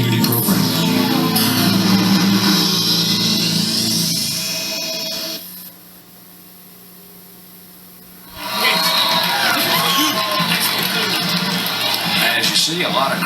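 Crowd at a high school football game cheering and roaring, loud and dense at first, dropping away for a few seconds, then swelling back up; someone talks over the noise.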